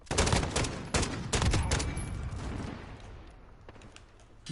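Several loud, close gunshots from a Dragunov sniper rifle in a video game, sharp cracks fired in quick succession in the first two seconds, then fading echoes and a quieter tail; no talking.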